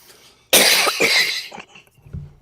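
A burst of harsh coughing, several rough hacks in quick succession, close and loud, trailing off into a short low throat sound.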